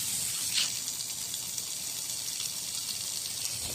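Water runs steadily from a tap, a continuous close hiss and gush with no break, loud and even throughout.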